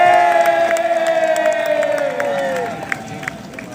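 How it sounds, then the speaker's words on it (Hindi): A crowd cheers loudly at a college opening ceremony at AIIMS Rishikesh, with a long, sliding whoop over the noise that fades gradually over several seconds. "तो थाम लीजिए अपनी कुर्सियाँ और जोरदार तालियों से स्वागत करते हैं निखिल बॉस का।"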